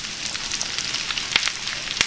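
Mushrooms fry in butter in a hot cast iron pan with a steady, close sizzle. A couple of sharp pops break through the crackle.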